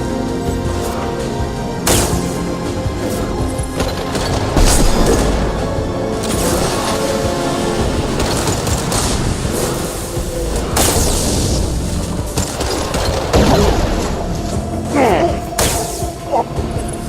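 Grenade blast in the video game Mass Effect 2 amid a dense combat mix: heavy booms and thuds, scattered gunfire and mechanical clatter with music underneath, plus voices calling out, loud and continuous throughout.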